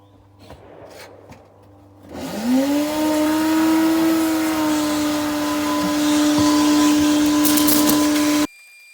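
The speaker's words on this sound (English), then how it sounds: "let's get a vacuum." A vacuum cleaner motor whirs up to a steady, loud drone with a sustained tonal whine, running continuously for several seconds before cutting off abruptly, while cleaning a 1991 Lotus Esprit.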